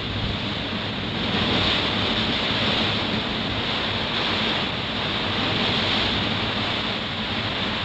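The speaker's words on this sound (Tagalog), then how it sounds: "Kahit pabugso-bugso siya, malakas yung hatak ng hangin." Strong gusty wind roars during a storm, buffeting the microphone in a dense, continuous wash with waves surging beneath, swelling and easing in gusts, with no voices.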